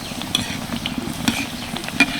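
Night jasmine leaf pakoras fry in hot oil over medium heat, a steady close sizzle with a few sharp clinks and scrapes of a utensil against the pan.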